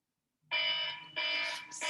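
A mobile phone alarm going off on silent mode, bursting in suddenly as two loud, steady electronic tone pulses, close and alone with no talk over it.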